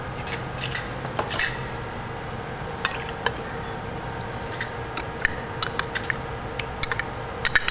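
A spoon clinking against a bowl as grated fresh ginger root goes in, a scatter of sharp metallic taps and clicks, some clustered and some isolated, over quiet room tone.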